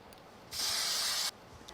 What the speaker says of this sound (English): I'm going to give it just a little bit of spray glue